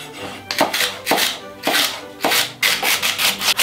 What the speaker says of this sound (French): Maintenant, on émince. Émincer, ça veut dire faire un mouvement du couteau comme ça.